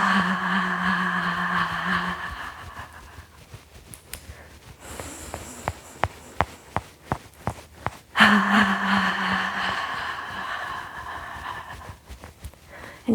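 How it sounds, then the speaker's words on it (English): Qi gong breathing for a heart-nourishing routine: steady in-breaths and exhales voiced as a soft "ha," close and breathy, with a run of short sharp puffs in the middle before a longer voiced exhale returns. "So breathing in, ha. Doing that a few times,"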